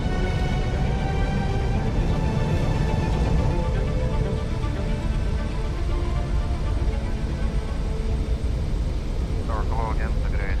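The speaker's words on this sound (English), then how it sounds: "stop 66 tons of plane before the icy runway runs out" An easyJet Airbus A320 weighing 66 tons rolls out after landing on an icy runway, its engines roaring steadily and loud throughout with a constant broadband rumble.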